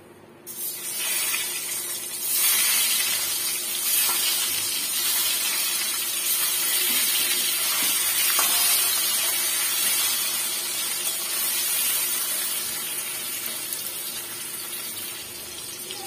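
Eggs fry in hot oil with a steady, broad sizzling hiss that swells early and then holds fairly constant, close by and with no one talking.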